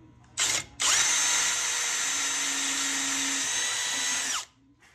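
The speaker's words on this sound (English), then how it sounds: "And here's a better look at adding oil to the drilling process." A power drill bores steadily through metal with a few drops of oil on the bit, a brief spin-up burst followed by a long even whine that runs close and loud for several seconds before cutting off.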